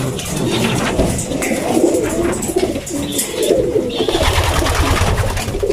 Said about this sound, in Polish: są to gołębie z trzech lęgów